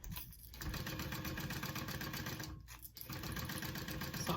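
A sewing machine runs steadily and close by as it stitches down the sides of a backpack strap, a continuous mechanical whir with two brief dips in speed.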